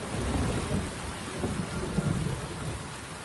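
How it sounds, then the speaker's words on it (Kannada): Heavy rain in a thunderstorm over Yelahanka: a dense, steady roar of rainfall on surfaces, with low rumbling beneath and no voices. "ಇಂದು ಮಧ್ಯಾಹ್ನವೇ ಎಂಟ್ರಿ ಕೊಟ್ಟಿದ್ದ ಮಳೆರಾಯ ಅಬ್ಬರಿಸಿ ಬೊಬ್ಬಿರಿದಿದ್ದಾನೆ."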